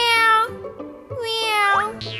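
A voice imitates a house cat's meow: two drawn-out, close mewing calls with a rising squeak at the end.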